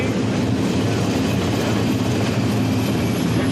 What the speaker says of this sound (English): When the helicopter comes down, the low hover, they say they're ready to land.